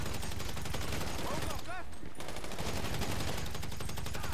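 Gunfire in GTA V Online, a dense fusillade of rapid automatic shots running steadily throughout under game chatter, with a brief lull midway.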